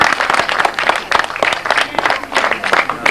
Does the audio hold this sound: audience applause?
yes